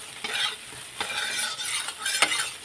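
Soybean chunks frying in oil with turmeric and salt, stirred in the pan: a steady close sizzle with bursts of scraping and stirring, no voices.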